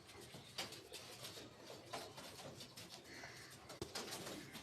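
A white-eyed racing pigeon coos softly in a few low, rounded calls against a steady background hiss, with no one talking.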